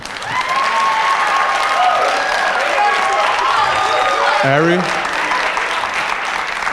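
Audience applause at a Toronto mayoral debate in Jane-Finch: loud crowd clapping with voices calling out over it, dipping briefly before the noise resumes.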